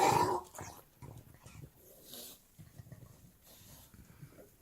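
An old toothless dog growling over a bone, a low close rumbling growl that starts loud and continues in uneven grumbling bursts, with no talk.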